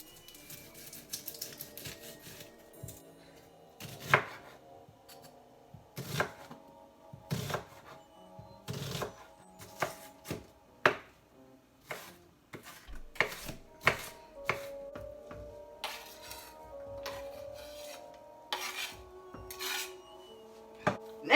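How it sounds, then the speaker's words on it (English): An onion is chopped on a cutting board, sharp knife strikes landing in uneven bursts and quick runs, close and crisp, with faint background music and no talking. "Then chop your onion."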